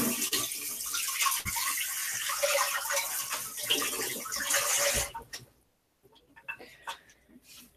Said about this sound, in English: let me just rinse this off because there's a little frozen